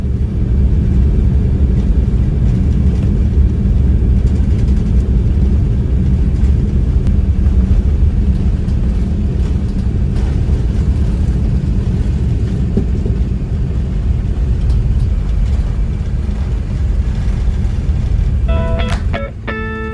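Steady, loud cabin roar inside an Emirates Airbus A380 business class climbing out of Dubai, a dense low engine and airflow rumble that holds unbroken for the whole stretch, with no voices.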